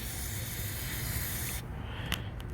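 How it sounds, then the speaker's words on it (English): Aerosol penetrant sprayed onto a nut on an Isuzu NRR truck makes a loud, close, continuous hiss lasting about a second and a half, then cuts off. A few small clicks follow. "I'm just gonna spray this nut here with some penetrant."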